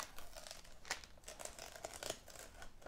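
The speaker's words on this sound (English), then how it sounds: "So now removing the masking tape." Masking tape is peeled off an airbrushed painted surface in a few close, crackly pulls with crinkling bursts.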